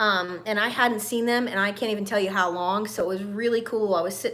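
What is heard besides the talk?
No everyday noises stand out.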